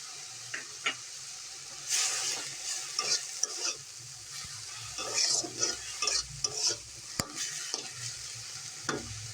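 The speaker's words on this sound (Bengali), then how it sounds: "আমরা ধনিয়া পাতাটা সেদ্ধ হওয়া পর্যন্ত নাড়তে থাকবো।" Coriander leaves fry in a pan with black cumin while a spoon stirs them. A soft, steady sizzle runs throughout, with repeated close scraping strokes and occasional sharp clinks against the pan, and no voices.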